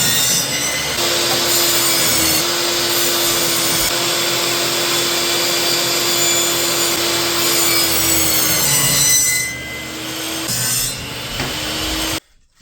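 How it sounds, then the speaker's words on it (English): A table saw rips wood into even strips, a loud continuous whine with steady cutting noise close by that dips briefly near the end and stops abruptly. "We got table saw set up. We should be able to rip 4 even strips all the way down here"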